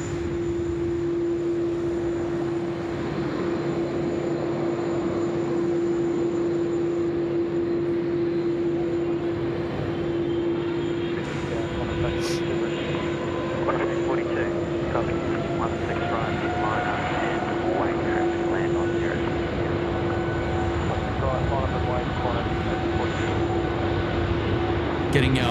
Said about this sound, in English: the FedEx now clear for takeoff